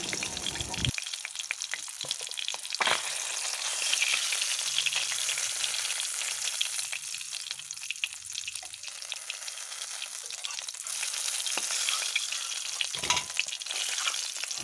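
Fish sizzles steadily in hot oil, close and continuous, with a few sharp clanks of a utensil scooping pieces out.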